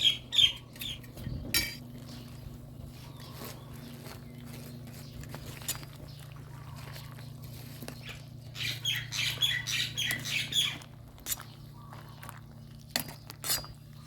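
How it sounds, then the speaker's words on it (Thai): About a kilo of Hong Kong bok choy is piled into a pot of sour curry with canned fish. Leafy rustles and pattering mix with metallic clinks and scrapes of a utensil against the pot, in bursts, with no speech. "ใส่ผักลงไปให้เต็มหม้อเลยครับ"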